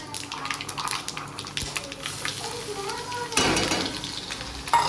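Garlic sizzles hard in a hot pan with yogurt and cumin, a loud steady crackle with stirring scrapes and a brief gushing surge near the end, and some indistinct talk over it.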